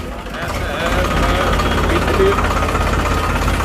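A tractor engine idles nearby with a steady low, knocking rumble and vibration, joined by a faint background voice.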